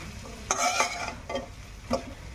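A chilli-spiced mixture frying gently on a low flame gives a continuous soft sizzle, broken by a few distinct stirring scrapes against the pan.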